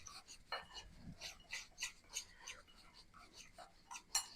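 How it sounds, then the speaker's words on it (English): Breadcrumbs, pecans and salt stirred with a chopstick, a quick series of soft scratchy rustles and light taps, close and quiet, with faint whispery bursts. "And my chopstick to stir it all up."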